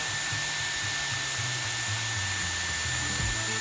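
A Dyson Airwrap blows air on its cold shot setting: a steady, close rushing whoosh with a constant high whine and no voices.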